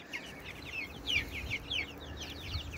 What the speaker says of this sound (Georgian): ეს არის 50 ბროილერის წიწილა.